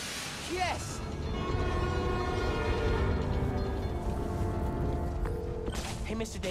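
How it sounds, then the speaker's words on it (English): A New York subway train in the video game Spider-Man: Miles Morales rumbles steadily with a sustained tonal hum and mechanical drone, a loud continuous presence, with brief voices at the start and end. "My trusty New York subway."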